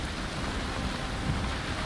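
A storm in the video game Valheim brings heavy rain and rolling thunder at sea, a dense, loud, continuous roar with low rumbling underneath and no pause.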